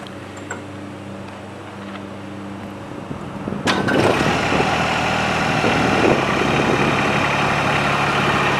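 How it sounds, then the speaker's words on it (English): A starter cranks briefly, then a Branson 2205h tractor's heavy engine catches and settles into a steady, rumbling idle that continues to the end. "first is turn on the tractor."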